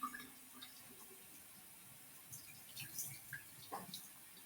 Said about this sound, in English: So let the water flow from my wrist to my fingertips.